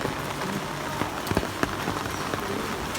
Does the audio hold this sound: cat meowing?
no